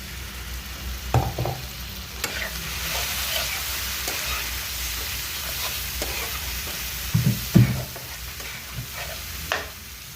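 A little water goes into a pan of frying pointed gourd curry, giving steady oily sizzling with several sharp spatters and stirring scrapes, close and with no voices.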